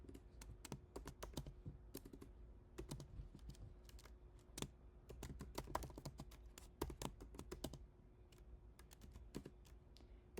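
Steady typing on a computer keyboard while entering Python code, quick irregular key clicks in bursts with brief pauses, close and clear with no speech.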